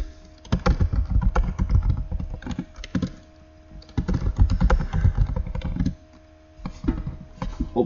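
Close, clattering computer keyboard typing comes in quick bursts of keystrokes separated by short pauses, with no talking.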